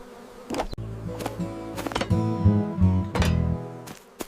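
Bees buzz around a hive on a farm, a busy swarm drone rising and falling in close bursts with some louder passes near the microphone; no one speaks.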